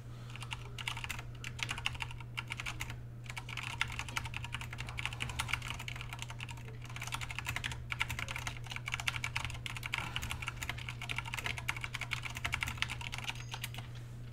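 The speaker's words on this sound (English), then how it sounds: "Someone was typing, and then they weren't typing." Continuous rapid typing on a computer keyboard, dense clicking keystrokes with a few brief pauses, heard close over a steady low electrical hum with no talking.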